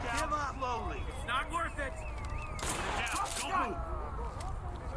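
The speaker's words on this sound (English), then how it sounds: "We get shot in the back here." Rapid gunfire bursts from the tactical shooter Ready or Not, crackling repeatedly under near-continuous talk and game noise, with a denser volley midway.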